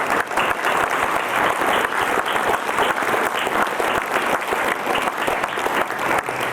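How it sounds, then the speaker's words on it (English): An audience at a library foundation author event gives a sustained, dense round of applause. The clapping stays loud and even throughout, with no talk over it. "if we can give them another round of applause"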